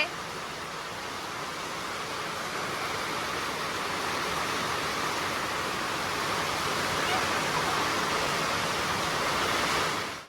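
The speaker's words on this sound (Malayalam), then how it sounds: "നല്ല മഴയാണ്" Heavy rain pouring down in a steady, dense wash of noise, loud and unbroken for about ten seconds, with no voices heard over it.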